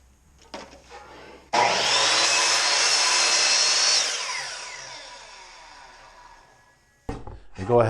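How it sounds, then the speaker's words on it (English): A power saw crosscuts 1x8 wooden boards to length for a Layens beehive bottom, a loud sustained whine lasting a few seconds and then spinning down, with brief handling noises before and after. "Basically what you want to do is cross cut these to the right length."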